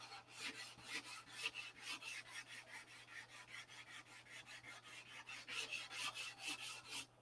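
Steady back-and-forth strokes of sandpaper on the surface of a P-47 model, close and faint, rasping in an even rhythm of roughly three strokes per second with no talk.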